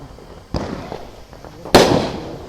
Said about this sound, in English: We got our own fireworks show right in our front yard.